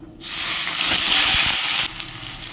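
Ground ginger, garlic, onion and green chili paste drops into hot white oil left from frying lentil badi. A loud sizzling hiss erupts suddenly, holds for over a second, then settles to a quieter crackle.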